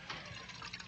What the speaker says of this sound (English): Pour me a mug of ale, will you?